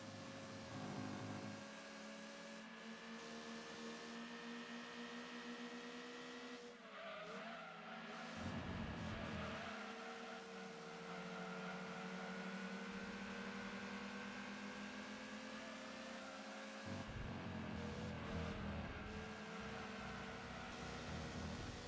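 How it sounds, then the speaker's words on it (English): A race car engine in Gran Turismo 2 drones continuously through shifting revs and gear changes, joined by bursts of tire squeal, steady and unbroken with no talk. "Trying to think of what Gran Turismo 4 car has this engine noise."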